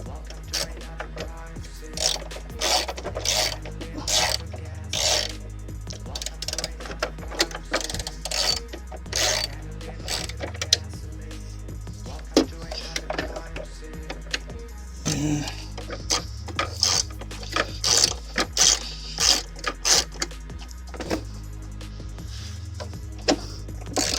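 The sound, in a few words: ratchet cranking during headlamp installation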